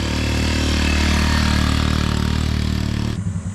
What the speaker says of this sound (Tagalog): So tignan natin itong maakit na motor